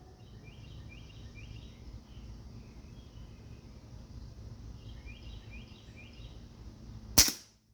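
A single sharp air rifle shot from a Crosman 2260, crisp and close, coming near the end after a quiet outdoor stretch with faint bird calls and low wind.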